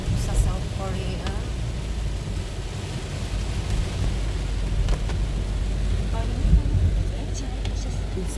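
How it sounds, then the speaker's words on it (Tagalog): Heavy rain pouring down in South Korea, a dense continuous hiss and patter with low rumbling beneath, while a voice speaks over it. "Oh my gosh, ang lakas ng ulan."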